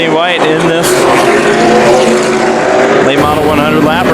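Late model stock cars roar around the oval at Havasu 95 Speedway during a 100-lap feature, engines screaming loud and close in a continuous pack with rising and falling pitch, under a race commentator's voice.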